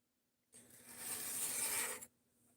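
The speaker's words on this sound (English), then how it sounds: "At the moment, I'm sharpening up the Craftsman knife that we got from Saints EDC." A Craftsman knife blade is drawn once across a sharpening surface, a single close rasping stroke of about a second and a half in an otherwise quiet room.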